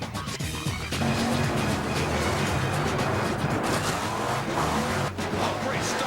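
The Gravedigger monster truck launches off the line at a 2001 Monster Jam event, giving a loud, continuous engine roar with gritty tire scrabble that holds steady for several seconds.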